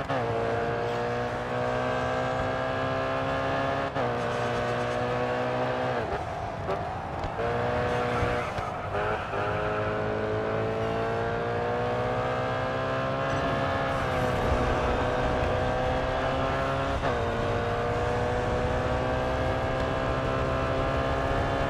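Audi RS 5 street racing around Paris in GRID: Autosport, its engine droning steadily at high revs with repeated shifts and pitch dips, tire squeal and skids breaking in partway through.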